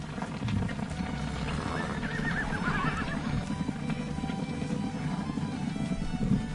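A herd of horses runs during a fast gather in open Montana country, a continuous drumming of many hooves with loud neighs and whinnies rising over it, steady throughout.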